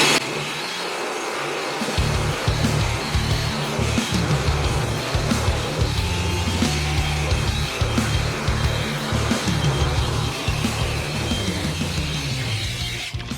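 A loud, steady blow dryer roars continuously while drying freshly cleaned car wheels and tires, staying close and constant for the whole stretch after a brief quieter start.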